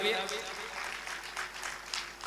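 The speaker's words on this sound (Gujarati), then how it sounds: "એ દાતાઓને પણ હું તમે જોરદાર તાળીઓથી વધાવીએ" Audience at a Gujarati comedy club show breaks into steady, loud applause lasting throughout, a dense wash of clapping with crowd noise mixed in.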